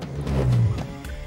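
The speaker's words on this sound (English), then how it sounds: "That sound was the ABS pump activating to apply the brakes." A Volvo XC60's ABS pump activates during City Safety automatic braking at low speed, a brief, loud mechanical whir and rumble lasting about a second.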